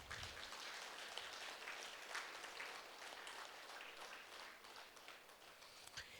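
An audience at a musical meditation gathering applauds with steady, dense clapping that fills the whole stretch, heard from a distance and fairly faint, with no talk.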